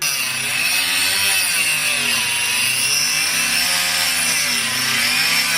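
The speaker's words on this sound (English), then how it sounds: "So what we ended up doing is getting the Dremel out." Dremel rotary tool cutting through material, a loud, steady high-pitched whine with a wavering, grinding tone held the whole time, close up and without talk.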